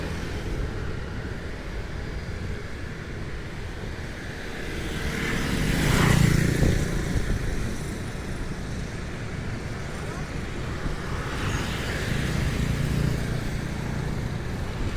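Busy Saigon street traffic with cars and motorcycles, a continuous broadband roar with a louder vehicle passing close by midway, a voice faintly present underneath.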